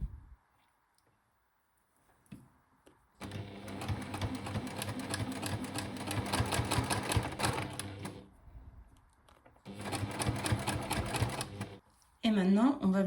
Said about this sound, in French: on va venir coudre le côté de la poche sur le pantalon